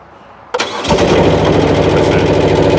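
The diesel engine of a mobile crushing machine cranks and starts after a glow-plug wait, catching abruptly and settling into a loud, steady running rumble.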